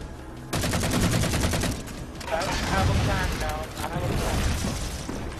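Rapid automatic gunfire in the sci-fi shooter Halo 4 during co-op Legendary play, a loud, dense rattling volley that continues nearly unbroken after a quiet start, with a player talking over it.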